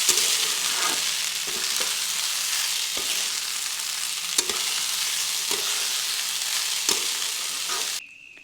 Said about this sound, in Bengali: দিয়ে চালটি কিছুক্ষণ ভেজে নিচ্ছি